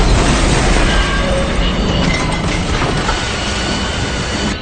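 A train rolls past close by in a loud, continuous roar of wheels and carriages with some rattling, and no voices.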